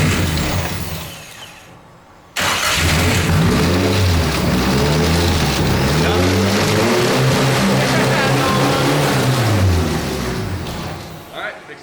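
An SR20 engine swapped into a $350 BMW starts and idles after a loose injector plug is reseated, running as a loud, steady, close drone after a brief lull and tapering near the end.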